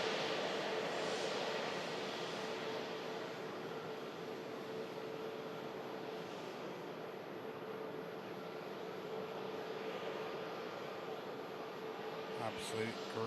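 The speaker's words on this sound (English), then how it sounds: "Ryanair on short, coming in from Alicante." A Ryanair airliner on short final into Manchester Airport from Alicante, a steady, distant jet engine roar sustained throughout, with someone talking over it.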